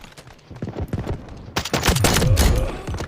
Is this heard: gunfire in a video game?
yes